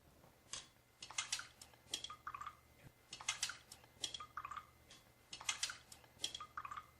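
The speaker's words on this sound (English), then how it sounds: "Now let me stir these up real quick." Small clinking and tapping as a utensil stirs several cups of bottled and tap water samples, coming in quick rhythmic bursts of light strokes against the cup sides, close and fairly quiet.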